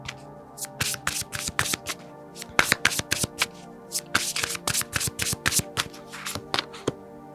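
Tarot cards handled and shuffled from a deck, a close run of crisp flicks and soft rubbing taps in quick irregular bursts, with no talking.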